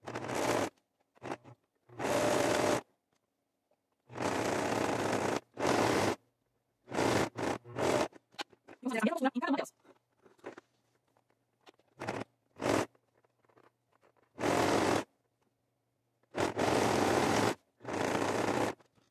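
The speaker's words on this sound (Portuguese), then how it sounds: "Então, vamos lá pra máquina costurar." A sewing machine runs a zigzag stitch through fabric strips for a bathroom mat, in short loud bursts of rapid mechanical whirring separated by quiet pauses, close to the microphone.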